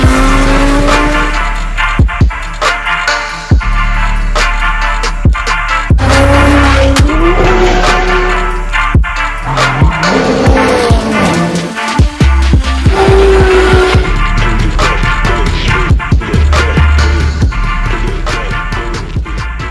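Mercedes W211 with a Lorenzo aftermarket exhaust, loud revving and acceleration with rising engine tones, sharp tire squeals and bursts throughout, close and continuous.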